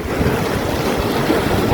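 Strong sea waves crash against the rocks of a rocky shoreline fishing spot, making a steady, loud roar of surf and wind with no pauses and no voices.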